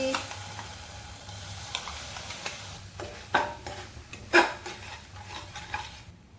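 Paste hits hot oil with a hissing sizzle, joined by scraping stirs and a few clinks of a utensil against the pot.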